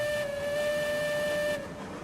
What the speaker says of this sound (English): Hit the whistle again.